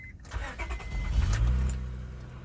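A 2003 Honda Odyssey EX-L minivan with 149k miles cranks briefly with slight hesitation, then catches and settles into a smooth, even idle, heard close with no talking.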